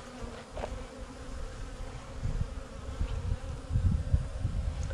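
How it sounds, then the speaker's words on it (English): Agitated honeybees at an open hive infested with maggots and roaches buzz in a steady, close drone that swells slightly, with a few soft handling bumps and no talking. "Bees are a little agitated, huh?"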